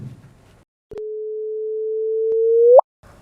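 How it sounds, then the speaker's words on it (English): A gravitational wave signal turned into sound gives a single steady electronic tone that holds for about two seconds, grows gradually louder, then sweeps sharply upward in a brief chirp and stops, with faint room noise on either side. "that's kind of what the sound this gravitational wave would make if it passed, if we played it as a sound"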